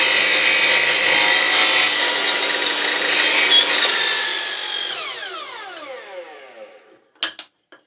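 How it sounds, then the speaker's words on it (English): A compound sliding mitre saw cuts a 45 degree mitre in timber with a loud, steady whining rasp that slowly dies away as the blade spins down. A few faint clunks of handling follow. "And now I'll cut the other half of the 45."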